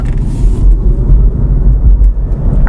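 A BMW i3 REx electric car accelerates on a winter road. Inside the cabin a loud, steady low rumble of road and drivetrain noise builds with no talk over it.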